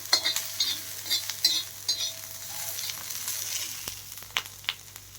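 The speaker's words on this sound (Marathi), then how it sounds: "सोनेरी रंग येईस्तोपर्यंत भाजले मी छान खरपूस एकदम" Onion roasts in a pan for a village-style mutton sukha, the close sizzle broken by frequent spatula stirs and scrapes, a few sharper taps near the end.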